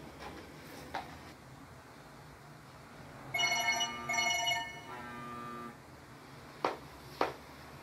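A telephone rings indoors in a drama scene, two bursts of bright electronic trilling at moderate volume, with faint clicks and soft room noise around them.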